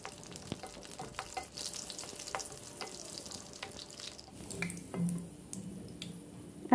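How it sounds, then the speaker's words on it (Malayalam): Green chillies fry in hot oil for an egg curry, giving a steady, soft crackling sizzle with intermittent stirring scrapes and squishy pops, close and fairly quiet with no talking. "ഇനി നമുക്ക് ഈ എണ്ണയിലേക്ക് തന്നെ കുറച്ച് പച്ചമുളക് ഇട്ട് കൊടുക്കാം. എന്നിട്ട് അതും ഒന്ന് ഫ്രൈ ചെയ്തെടുക്കാം."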